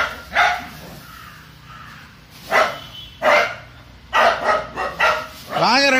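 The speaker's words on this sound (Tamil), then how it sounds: "எரியன் குறிஞ்சி வெளியே வந்து ஒரு டாக் வாக்கிங் போது அதுக்கு அனிமல் அக்ரெஷன் காட்டுறாங்க." A dog showing aggression toward other animals on a walk barks in several short bursts, spaced irregularly, with a whining yelp near the end and faint background noise between barks.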